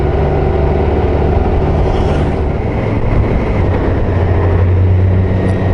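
A 2022 BMW K1600GT touring motorcycle's six-cylinder engine lugs along at low revs, under 2000 rpm, a steady loud drone mixed with wind rush while riding, without pauses.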